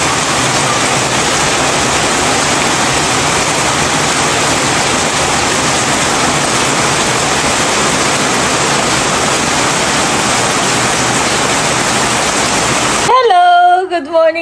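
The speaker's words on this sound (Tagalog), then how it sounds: "Lalo pa pong lumakas ang ulan." Downpour intensifying into a loud, constant roar of rain on surfaces, ending abruptly as a voice starts speaking close by.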